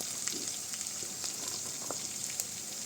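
Carrot pieces fry in peanut oil for a carrot coconut stir-fry, giving a steady, fairly quiet sizzling hiss with tiny crackles, close and with no speech.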